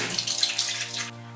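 Tap water runs steadily into a hotel bathroom sink as a face is washed, a broad continuous splashing hiss that stays close and even for over a second, then thins out abruptly near the end.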